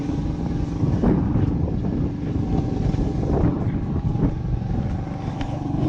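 Typhoon-strength wind buffets a fishing boat at sea, a loud, close, continuous roar with heavy gusting wind noise on the microphone.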